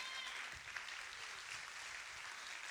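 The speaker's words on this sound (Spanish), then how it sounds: "¿Alguien puede aplaudir al Señor?" A church congregation at a sermon claps together in a steady, even patter, a full room of hands sounding at moderate volume throughout with no voices over it.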